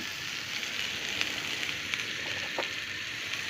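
Carrots and onion sautéing in a pan, a low, steady sizzle with a few small crackles and pops, close and fairly quiet, no voices.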